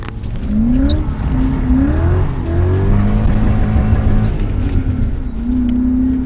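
A car with a welded differential takes a left turn at full throttle, its engine revving hard and loud throughout while the tires squeal and skid, with the engine note dipping briefly before climbing again.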